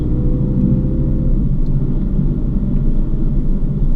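A car accelerates hard on a race track during a driving lesson, its engine a loud, steady low roar that holds throughout without any talk over it.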